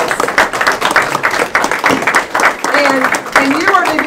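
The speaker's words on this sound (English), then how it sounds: "Big round of applause." Parents at a career and technical education signing day ceremony clap, with claps and taps running throughout under a loud voice talking over them.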